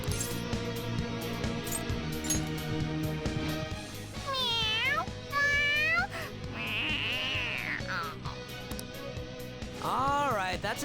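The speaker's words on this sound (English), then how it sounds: "The cat's acting awfully excited." An excited cat meowing repeatedly in Persona 5 Royal, a series of rising and falling yowls over game music, with game character voices talking around them.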